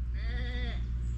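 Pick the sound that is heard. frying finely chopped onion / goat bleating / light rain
goat bleating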